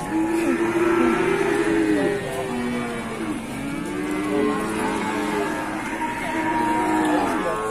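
Water buffalo at a busy livestock market low repeatedly in long, drawn-out moos, several animals overlapping against a constant crowd murmur and market bustle.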